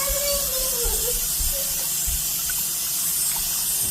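Tap water runs steadily in a sink during a washday session rinsing and removing build-up from a child's locs, a continuous close gush with no talk.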